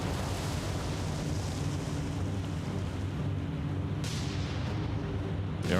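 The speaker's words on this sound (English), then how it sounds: "We've got all of our guns in action now on the North Carolina" Battleship North Carolina's guns firing in the naval video game War on the Sea make a loud, continuous low rumbling roar with a surf-like wash that barely lets up, heavy and close, with no talk.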